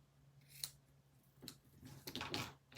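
Scissors snip through green cardstock in a few short, crisp cuts, close and quiet against a faint background hum, with no talking.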